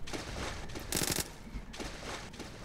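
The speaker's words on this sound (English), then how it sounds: "Stop shooting at me!" Rapid gunfire in the Roblox Jailbreak game, dense bursts of automatic shots with a brighter, louder burst near the middle, all fairly quiet overall.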